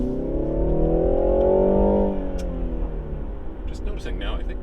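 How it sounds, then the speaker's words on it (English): A 2022 BMW 330i engine in sport mode downshifts and pulls out of a corner, a steady rising-then-falling drone heard from inside the cabin, moderately loud with a brief tone shift midway. "Probably hear the engine downshift as we come out of the corner here."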